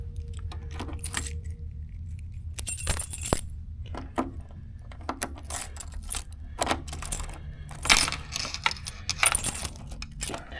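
A large ring of about nine car keys jangles and clinks repeatedly in bursts against the trunk lock of a 1960 Chevrolet Impala, close and fairly loud over a low background rumble.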